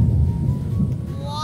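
Thunder rumbles low and long, a continuous deep roll near the listener at fairly loud level, with faint background tones over the rumble.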